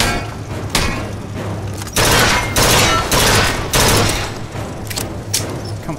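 Rapid gunfire in the video game Bioshock Infinite: a sustained fusillade of loud, overlapping shots with heavier bursts roughly every second, dense and close with no break across the whole stretch.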